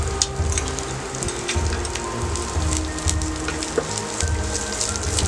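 Green chilli and spring onion greens stir-frying in a pan with ginger and garlic for a desi Chinese dish, a steady close sizzle with scattered crackles and pops throughout, no voices.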